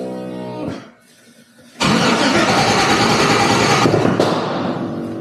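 A 1955 Chevy Napco truck engine cranks, catches and bursts into a loud, steady running roar after a brief pause, holding strong close by with no talk.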